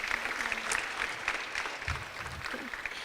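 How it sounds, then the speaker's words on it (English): An indoor audience at an international students' gathering applauds a participant, a moderate spell of scattered clapping at medium distance with faint voices underneath. "Please give an applause for this participant"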